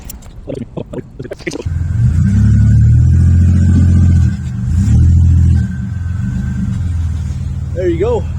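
A 2004 Buick Century engine idles loud and close with a couple of revs, after a voice talks over some clunks at the start.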